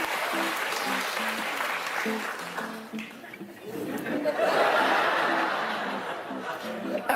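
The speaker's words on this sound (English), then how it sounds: "Still, they clapped along." A television studio audience applauds in a sustained burst of clapping, with some laughter and chatter mixed in, dipping briefly midway before swelling again, loud and close.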